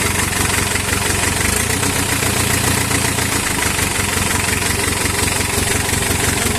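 A 4BA1 Apple diesel engine idles steadily and evenly, a continuous mid-to-low rumble with constant loudness and no breaks throughout.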